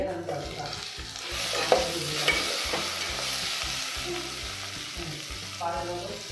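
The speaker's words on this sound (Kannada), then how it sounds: "ರೆಡ್ ಚಿಲ್ಲಿ ಎಲ್ಲ ಹಾಕೊಂಡು ಚೆನ್ನಾಗಿ ಫ್ರೈ ಮಾಡ್ಕೊಳ್ಬೇಕು." Red chillies and coconut fry in a pan for a horse gram palya, stirred constantly with rhythmic scraping strokes over a steady, close sizzle.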